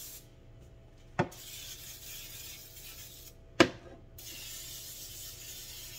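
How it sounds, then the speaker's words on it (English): Easy Off oven cleaner sprayed around the edges of a sink: long steady hissing bursts at close range with a short pause between them, each marked by a sharp click of the trigger. "I just use some Easy Off. And I spray like around the edges and stuff really good."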